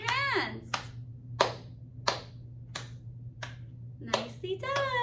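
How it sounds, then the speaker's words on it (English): Sharp hand claps ring out about every 0.7 seconds in a steady beat during a sing-and-dance session, close and distinct over a low hum, with a singing voice at the start and end. "How do you clap your hands?"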